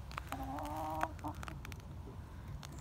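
Chickens cluck nearby, one drawn-out call followed by a few short clucks against a low background rumble.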